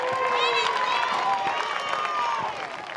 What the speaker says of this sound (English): Let's give a big round of applause to both participants, the Impact Youth Bearcats and Ginn Elite.